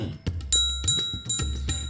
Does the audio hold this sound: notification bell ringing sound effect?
yes